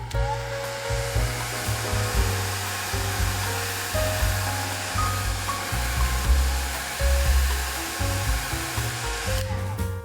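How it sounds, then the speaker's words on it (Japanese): A hair dryer blows steadily and fairly loudly for the full ten seconds, drying a watercolor pencil painting of an autumn lake, its hum shifting slightly as it moves. "筆はきれいにしてドライヤーで乾かします"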